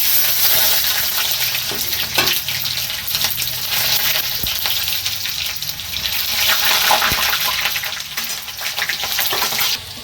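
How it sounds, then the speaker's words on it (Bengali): Whole cloves and cardamom pods frying in hot oil in a pan for a chicken dish, a loud dense crackling sizzle with scattered pops and stirring scrapes, steady throughout and without speech. "এই লং আর একটু এলাচ দিলে আমি একটু ফাটিয়ে নিয়েছি, আমাদের তেলে ফুটে যায় তো"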